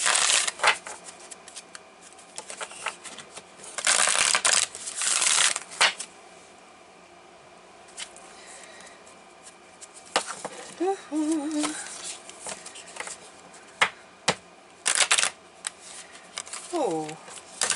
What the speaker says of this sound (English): no more shuffling that way. Shuffling this way.